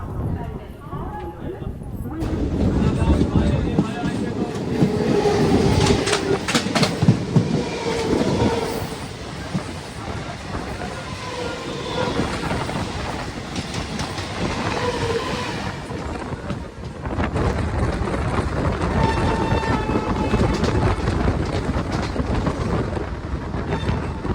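A passenger train departs Katwa station, rumbling and clattering along the tracks, carriages rattling rhythmically, with voices talking over the steady noise throughout.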